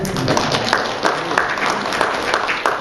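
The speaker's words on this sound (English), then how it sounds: "yeah, you can clap for that" An audience at a cannabis convention claps steadily throughout, a dense patter of many hands with a few sharper individual claps standing out.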